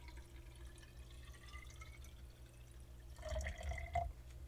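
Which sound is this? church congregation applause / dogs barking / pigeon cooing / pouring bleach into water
pouring bleach into water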